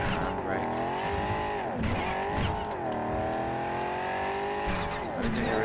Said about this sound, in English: Do a little drifting.